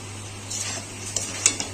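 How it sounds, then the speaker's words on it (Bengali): A pan of spice paste made from garlic, cumin, coriander, tomato and onion is sautéed with chilli powder for a tangra fish curry. A soft steady sizzle runs throughout, broken by a few sharp clinks of a utensil against the pan. "সেই মশলাটাকে আমরা কষিয়ে নেবো হচ্ছে আর একটু লঙ্কা গুঁড়ো দিয়ে দিলাম"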